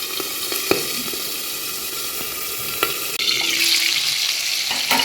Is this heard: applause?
no